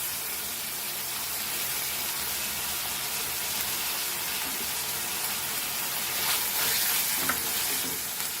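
Filling for homemade Goan beef samosas fries in a pan, a loud, steady hiss and crackle of sizzling oil with occasional stirring scrapes, close and continuous throughout.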